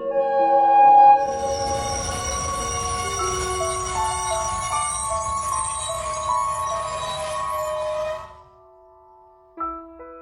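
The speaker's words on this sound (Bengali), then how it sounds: "ওই যে ট্রেন আসছে" Cartoon sound effect of a train approaching, with a tonal horn-like chime and a rolling rumble sustained for about eight seconds before it cuts off. A brief sound follows near the end.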